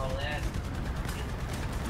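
Rapid gunfire from War Thunder tank combat keeps up steadily for the whole stretch, dense and loud, with a voice shouting over the shooting.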